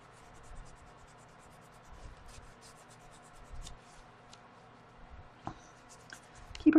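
Quiet scratchy rubbing strokes of blending on a napkin art journal page, soft intermittent scuffs and taps, close and faint, with no speech.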